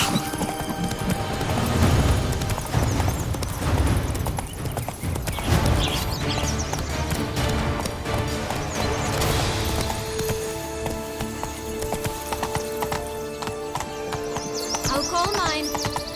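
The horse Roach galloping in The Witcher 3, a steady clip-clop of hooves over the first several seconds under music, fading as speech and a whinny-like tone follow.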